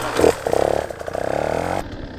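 A 150cc dirt bike engine buzzes loud and close, with a quick throttle blip followed by a steady revving stretch as the bike rolls over a log, then the revs drop away near the end.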